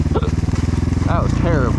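A Kayo K4 250 dirt bike engine lugs down on a trail, a low, uneven throbbing rumble that stays steady and close throughout, with a voice speaking over it.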